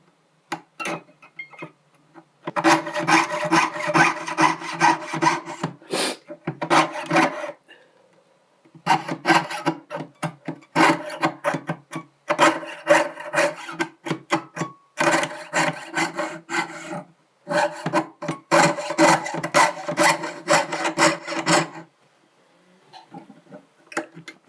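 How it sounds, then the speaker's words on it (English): A jeweller's saw frame with a lubricated blade cuts through thick fused silver, giving repeated rasping strokes in steady bursts, separated by brief pauses, close up with no talking. "Now I'm just going to use my saw frame and cut that out."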